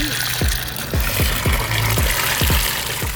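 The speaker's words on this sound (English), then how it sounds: "Next up, I need 2 gallons of water." Water is poured out in a continuous stream for a slime batch, a sloshing, gurgling flow with repeated glugging bubbles as about two gallons empty out at close range.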